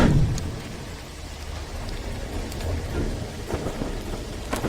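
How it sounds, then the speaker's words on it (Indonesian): Heavy rain pours steadily on a surface with a dense continuous hiss, and a rumble of thunder rolls in near the start amid scattered loud drops. "Hujannya deras banget ya."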